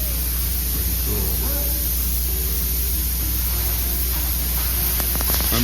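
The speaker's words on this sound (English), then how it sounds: "That sprayer is super loud" A loud high-pressure sprayer shooting hot material hisses as a dense, constant roar near the microphone, steady throughout with faint background clatter and a voice partly buried beneath it.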